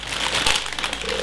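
Plastic bag holding Lego pieces for a Millennium Falcon set crinkles and rustles steadily for about a second, close and fairly loud, with no voices.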